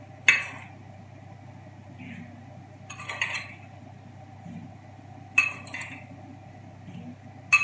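Eggs for lemon bars are mixed in a bowl, a utensil striking the side in sharp clinks at irregular intervals, four or five distinct taps over a low steady hum.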